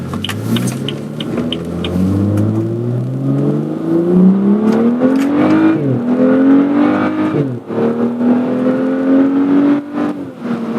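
A BMW F80 engine revs up through rising pitch sweeps, surging and briefly dropping between pulls, loud and close with no talk.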